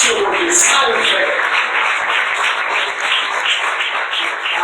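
Church congregation applauding at a Haitian Pentecostal service, a dense steady wash of clapping filling the room, with voices mixed into the crowd sound.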